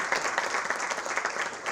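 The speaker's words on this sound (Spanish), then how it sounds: "su actriz, Yelida Díaz, para quien pide un aplauso" An audience applauds the actress of a film at a cine club screening, a brief, even burst of clapping at moderate loudness with no speech over it.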